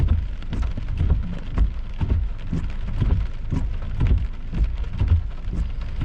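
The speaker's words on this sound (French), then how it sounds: "il se met à mouiller fort" Heavy rain pours steadily during a thunderstorm, a dense, close drumming of drops with a constant roar and no talking.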